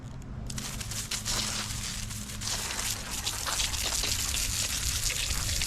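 A garden hose sprays water over a cleaned alligator skull, giving a steady close hiss and gush with crinkly splashing that runs unbroken from start to end.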